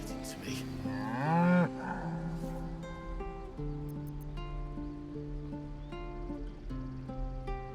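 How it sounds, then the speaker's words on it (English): A cow moos once, loud and drawn-out, in the video game Baldur's Gate III, over a steady musical game background with rain-like ambience. "Moo!"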